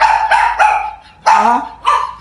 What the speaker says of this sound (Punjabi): ਹੁਣ ਕੋਲਿਆ ਡੈਡੀ ਦੇਖ ਲੈ ਹੁਣ ਕਿਵੇਂ ਭੌਂਕਦਾ